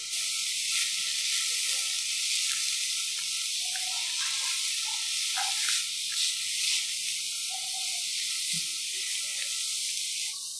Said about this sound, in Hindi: हमें गाजर को भूनते हुए 5 मिनट हो चुके हैं।